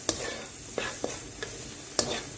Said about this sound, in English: So just continue sauteing on medium-low heat for about a minute or two.